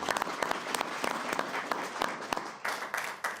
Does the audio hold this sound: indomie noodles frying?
no